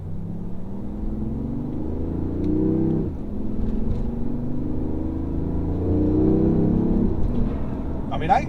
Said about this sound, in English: this car has a 3-cylinder engine, but I'll also tell you it has power